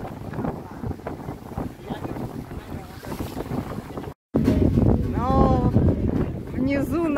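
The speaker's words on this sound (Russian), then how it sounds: "А не на катере, на котором мы едем." A motorboat ride off Watamu, Kenya, with constant wind roar and engine-and-water rush, people talking over it, and a brief dropout midway before the noise resumes louder.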